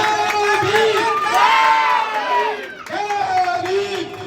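A large crowd at an Ambedkar Jayanti gathering in Neb Sarai, New Delhi, chants 'Jai Bhim' in unison. Two loud, drawn-out group shouts come close together, the voices swelling together and then dropping off briefly between the calls.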